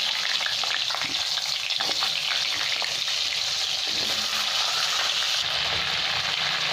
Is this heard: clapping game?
no